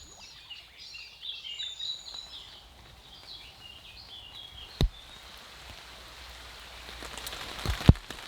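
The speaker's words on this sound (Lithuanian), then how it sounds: "bet vėl lyja." Steady rain patters through a forest canopy on a Samogitian river trip, a soft continuous hiss with a few louder drips and faint bird chirps in the background.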